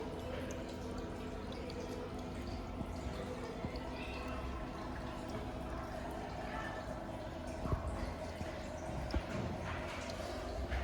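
Water trickles through rocks in a paludarium waterfall, making a faint, steady splashing with occasional soft drips. The flow is quiet and continuous, with faint background noise.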